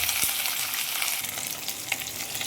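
Small shallots frying in hot oil with curry leaves, a dense, steady crackling sizzle close up with a faint clatter of stirring, no talk.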